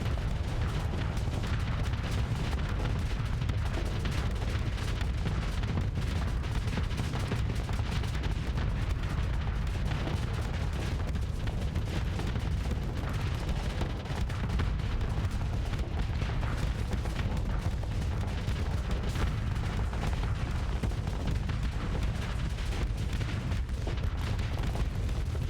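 Weapons and missiles firing in a Starsector space battle, a steady low rumble of distant booms and muffled shots running continuously at moderate volume.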